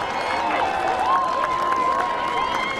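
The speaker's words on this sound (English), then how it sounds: "How about another round of applause for the Warrior Football Band?" Crowd applause at a high school senior night for the Warrior Football Band, a steady wash of clapping and cheering from a stadium audience, with a sustained musical tone running beneath.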